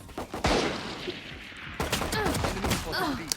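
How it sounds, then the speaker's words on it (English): Video game gunfight with classic pistols, sharp shots cracking in quick bursts amid a noisy firefight, with voices chattering over the top. "Your teammates are blasting these dudes with classic pistols."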